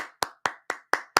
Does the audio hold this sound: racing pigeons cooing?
no